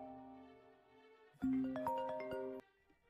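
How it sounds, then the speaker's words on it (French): A phone ringtone plays a short bright melodic chime of several rising tones, fairly faint and alone after a quiet stretch, then stops abruptly. "Téléphone, frère Léopard, téléphone"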